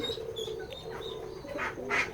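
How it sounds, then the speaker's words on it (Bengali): Pigeons at a pigeon farm give soft, intermittent coos and faint calls, fairly quiet against a low background hum. "আপনারা দেখতে পাচ্ছেন আমাদের এই খামারে অনেকগুলো কবুতর আছে।"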